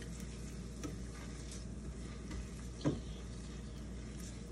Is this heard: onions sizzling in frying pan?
yes